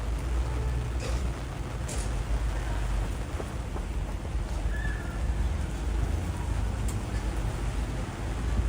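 Heavy rain pours down on a New York City street at night, a dense, loud, continuous roar with low rumbling beneath it and no talk.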